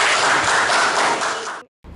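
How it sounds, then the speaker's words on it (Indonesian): Classroom audience applauding a student after her presentation, a short dense round of clapping that holds for about a second and a half, then cuts off abruptly. "Oke, boleh tepuk tangan untuk Sabrina."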